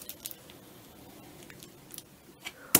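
Small scissors snip a paper bag into waves, a handful of faint, irregular cuts in a quiet room, with one sharper snip at the end.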